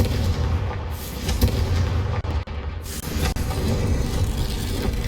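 Bombarda and Confringo spell explosions from Hogwarts Legacy combat rumble in a continuous heavy barrage, with several sharp close blasts cutting through the low booming; no voices are heard.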